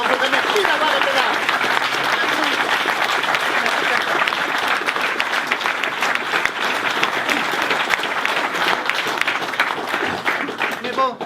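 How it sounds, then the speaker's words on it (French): An audience at the Startup Weekend Brest 2017 final pitches claps loudly and steadily for the full stretch, a dense, crackling wall of applause with a crowd murmur underneath. "c'est le moment de vous applaudir vous-même"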